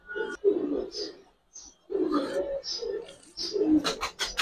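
Giribaz and coloured pigeons coo at a pigeon farm in a series of soft, low, throaty calls, close and fairly loud, while a person talks.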